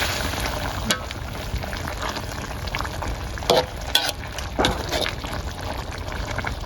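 Whole cha-om (acacia leaf) stalks fry in a hot pan, a close crackling sizzle with stirring scrapes and a few sharper pops and clatters.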